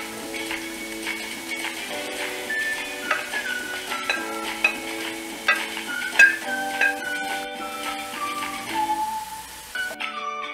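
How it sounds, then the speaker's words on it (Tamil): Tomatoes fry in a pan for a creamy chicken soup, giving a soft, steady sizzle with light stirring. The frying sits under louder background music throughout. "இப்போ நம்ம தக்காளி ஆட் பண்ணிட்டு ஃப்ரை பண்ணணும்."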